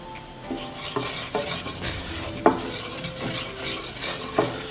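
Ginger, garlic and onion frying with turmeric in a pan, a steady close sizzle broken by the scrape and clink of a utensil stirring several times.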